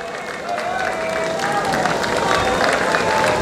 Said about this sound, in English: Here they come, cheer them on!